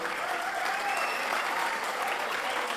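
Steady audience applause at a book festival lecture gathering, sustained dense clapping throughout at a moderate, even level without pauses or talk over it.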